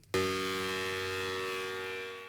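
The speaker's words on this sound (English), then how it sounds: "the sound of a tornado drill, or a tornado siren rather" An outdoor tornado warning siren, sounded in a tornado drill, starts suddenly and holds a steady, loud, harmonic wail that slowly fades, with no voices present.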